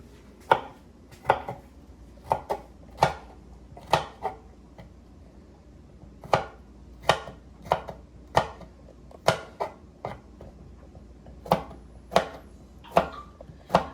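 A knife chops thyme and garlic on a board, about twenty crisp, separate strikes in uneven bursts with short pauses between them, close and clear, with no talking.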